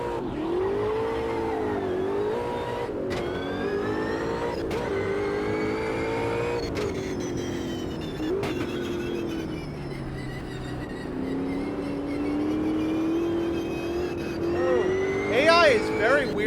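Race car engine in the sim racing game Automobilista 2, revving up and down through gear changes for the whole stretch, steady and loud, with occasional quick shifts and a rising whine near the end.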